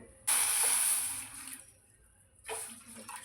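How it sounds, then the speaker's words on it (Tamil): Water pouring into a kadai pan on a stove, a loud hissing splash in one long pour, then a shorter second pour after a pause. "ஃபர்ஸ்ட் வந்து ஒரு கடாயில வந்து தண்ணி ஊற்றிக்கணும்"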